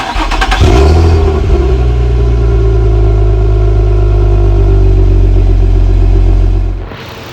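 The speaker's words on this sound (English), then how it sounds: "cross my fingers, and turn on the car." A 2006 Infiniti M35 fires up for the first time after its intake manifolds were ported and rebuilt: a loud cranking catch, then a steady deep idle held close for several seconds before shutting off.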